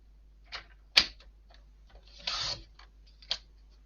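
Paper-cutter or craft knife cutting card to 21.5 cm for a nativity photophore card: a few sharp clicks and snips, then a short scraping slice near the middle, close and fairly quiet, with no talking.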